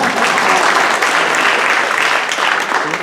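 Sustained audience applause fills the hall at a Tamil festival debate stage event, a dense, steady clapping that stays loud and even for the whole stretch.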